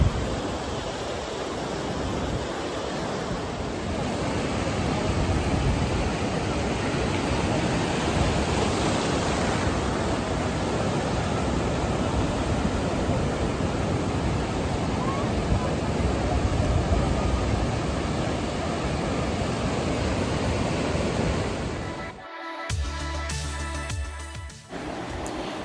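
Sea waves roaring at Digha beach at night, a continuous deep wash of surf that rises and falls gently over a long stretch, fairly close, before cutting off abruptly near the end.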